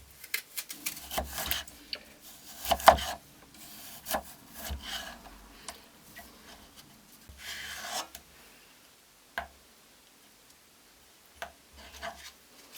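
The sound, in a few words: knife cutting quince into thin sticks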